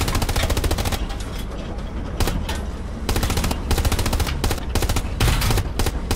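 A tank in the WWII shooter Hell Let Loose fires on a Sherman tank during a battle at Remagen Bridge. Loud, dense bursts of gunfire come in several waves, with heavy blasts standing out among them.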